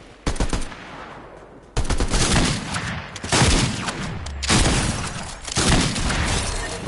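Rapid bursts of automatic gunfire and single shots in a video game shootout, loud and close, arriving in several dense volleys with brief gaps between them.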